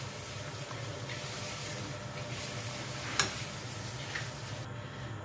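Thick nalli nihari curry being stirred continuously in a pot, a soft steady sizzle and scraping hiss with one sharper clink of the spoon, quiet and close, no talking.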